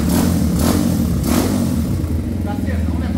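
A 250cc motorcycle engine revs loudly close by, rising and falling in short throttle bursts with a rough mechanical clatter underneath, while people talk over it.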